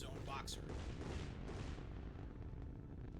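T20 guns on a warship open fire in the space combat video game Nebulous Fleet Command, giving a continuous dense barrage of heavy booming shots with some sharper bursts near the start.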